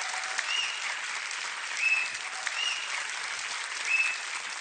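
Studio audience applause for a comedian on a stand-up comedy show, dense even clapping filling the room from start to finish with a few faint high whistles over it.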